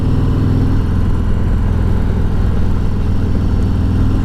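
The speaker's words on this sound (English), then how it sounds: "they were allowed to bring up the decibels of the exhaust to make it" Harley-Davidson Road Glide Special with a 114 motor and stock exhaust, a steady deep engine rumble running loud and close throughout without a break.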